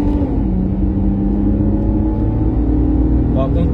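A Chevrolet Camaro RS engine runs with a steady, deep, loud rumble that holds throughout, a low idle or cruising drone with a slight rise near the end.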